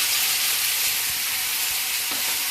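Cumin seeds and a dried red chilli frying in hot mustard oil, giving a steady, close, loud hiss and crackle of sizzling with a few faint stirring knocks and no voices.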